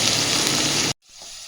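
Small diced potatoes sizzle in hot oil with bay leaves in a home kitchen, a loud, steady crackling hiss that cuts off abruptly near the end and then gives way to a quieter, softer sizzle.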